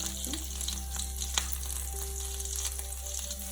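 Finely chopped onion frying in melted ghee, a steady close sizzle with soft crackles and an occasional stirring scrape, continuous and even.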